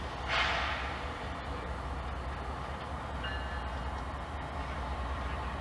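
CPKC freight train rolling along the Laggan Subdivision in the Rockies, a low steady rumble of railcars with a brief higher whistle-like swell near the start, moderately distant and even.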